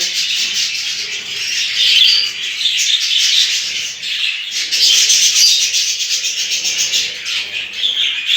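Budgerigars in a home breeding cage, crowding onto boiled cracked wheat, make a dense, bright stream of chattering chirps with scratchy rustling, continuous and fairly loud.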